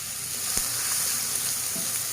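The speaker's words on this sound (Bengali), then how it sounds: "তেলটা গরম হয়ে গেছে। এবার দিয়ে দেব কিছু পেঁয়াজ কুচি।" Chopped onions frying in hot oil for a prawn-stuffed pointed gourd dish, a steady dense sizzle with one brief knock early on.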